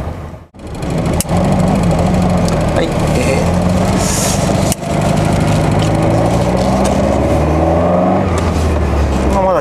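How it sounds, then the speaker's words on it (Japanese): A Ferrari 308 GTS with a five-speed gearbox runs close by before warming up, its loud, steady engine drone shifting slightly in pitch, with a brief voice and a couple of sharp clicks. "まだですねエンジンかけてからですね、あんまりこう暖気をしてない状態なので"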